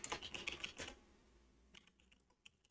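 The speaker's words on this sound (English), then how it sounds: "then I can start typing information" Rapid clicking keystrokes on a computer keyboard, close and clear: a dense flurry for about a second, then a pause and a few sparser, lighter taps.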